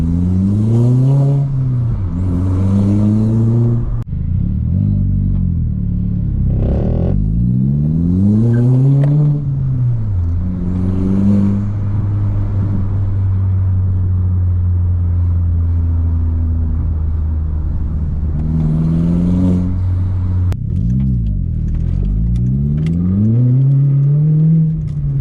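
A turbocharged MK4 Golf GTI engine under load revs up repeatedly in rising sweeps, dropping back between pulls, with a long steady drone in the middle; loud and close throughout.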